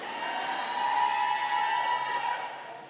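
Graduates of the SUNY Canton class of 2017 at the college's 109th commencement ceremony cheer as a crowd, a steady, loud, unbroken roar of many voices with no single speaker standing out.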